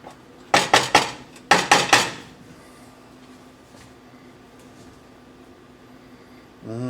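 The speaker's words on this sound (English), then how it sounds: "Fluff that rice up a little bit." A utensil scraping and knocking inside a pot of cooked rice, two quick bursts of loud clattering strokes close up, then a quiet stretch and one more scrape at the end.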